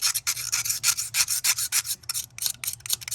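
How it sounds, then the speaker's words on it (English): Razor blade scraping an old gasket off a Ford Taurus or Mercury Sable thermostat housing mating surface, a rapid series of short, raspy back-and-forth strokes, close and fairly loud, with no talk. "you can also use the razor blade kind of like that"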